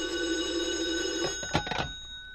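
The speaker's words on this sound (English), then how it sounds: "if the phone rings, I'll answer it because it'll be for me" An old-style telephone bell rings in a 1949 radio drama, a loud sustained ring that stops, followed by a brief clatter as the receiver is lifted.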